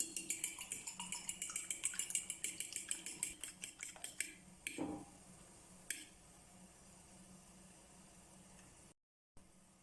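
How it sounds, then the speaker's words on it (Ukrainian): Fork whisking three eggs in a bowl for chop batter: a quick run of rhythmic clinking taps for about four seconds, then a couple of isolated knocks and quiet room hiss. "Збиваємо вилочкою 3 яйці до однорідності."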